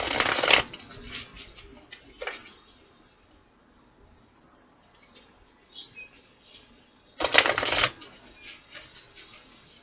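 Two loud bursts of tarot cards being shuffled, one at the start and one near the end, with a softer riffle in between and quiet pauses.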